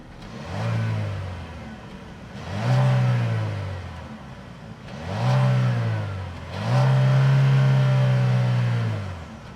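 The 1.5-liter turbo four-cylinder engine of a 2025 Chevy Equinox RS revs four times, each rev rising and falling in pitch, heard close with no talking.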